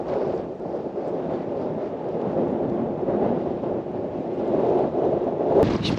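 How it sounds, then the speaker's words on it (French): Strong wind blasts across sand dunes, a steady, loud roar of gusts buffeting the microphone for several seconds, with a brief sharper rustle near the end. "il y a un vent à décorner les bœufs"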